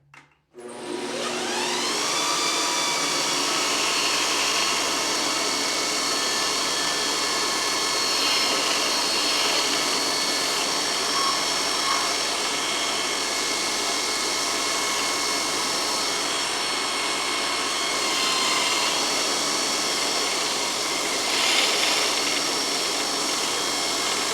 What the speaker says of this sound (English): we're lucky enough to have a nice big belt grinder here, and since this is brass, I'm gonna go ahead and I'm gonna use this to shape the ends